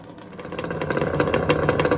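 A Kawasaki H2 750 two-stroke triple runs at a drag event, a raspy, crackling engine note with sharp irregular pops, steady and fairly loud.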